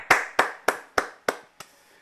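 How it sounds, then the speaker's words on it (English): Six sharp, evenly spaced hand claps ring out alone and close at a climate talk, each one crisp, with the last fading slightly softer. "let's give Ian a clap"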